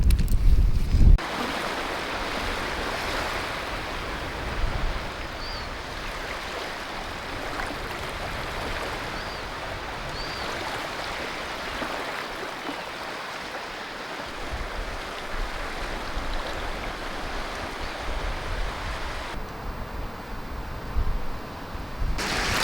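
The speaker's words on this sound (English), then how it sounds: "You can hear the waves splashing at the shore here." Waves splash at the shore on the Scottish coast, a steady broad wash of surf mixed with gusting wind buffeting the microphone, continuous and fairly close with no talking.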